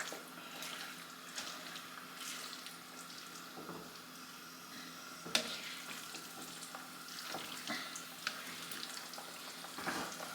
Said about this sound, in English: I'm more or less just trying to sweat the cabbage to do its shrinking down a little bit.